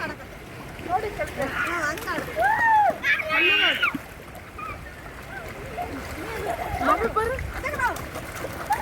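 Children splash and play in water at a village fair in Dharur, with irregular sloshing and splatter mixed with shouts and lively chatter from people nearby, fairly close and busy throughout.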